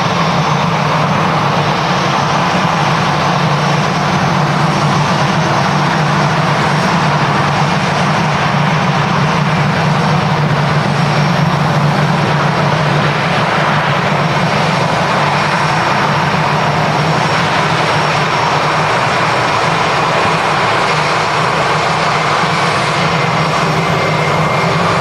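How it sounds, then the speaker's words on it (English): Lufthansa A320 airliner landing at Manchester Airport: a loud, steady broadband engine roar with a low rumble, sustained and unbroken throughout, no voices over it. "And here's the lander, ladies and gents."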